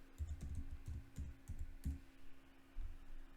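Keys clatter on a computer keyboard in short bursts of soft, close clicks, with a pause before a final few taps, over a faint steady hum.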